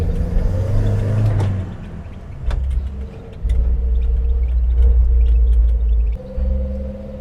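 A 1960 Standard Vanguard Vignale's engine drones steadily from inside the moving car, a deep, loud rumble that swells and eases as it drives along, with no talking.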